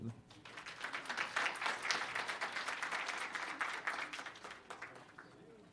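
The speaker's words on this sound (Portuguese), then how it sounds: "E que peço uma salva de palmas." An audience applauds a speaker before a lecture on urban agriculture public policy in Curitiba; a sustained round of clapping swells and then gradually tapers off.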